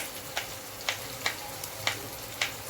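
Onions fry in a pan for chicken biryani, a soft continuous sizzle punctuated by six evenly spaced light clicks or taps, fairly quiet with no talking.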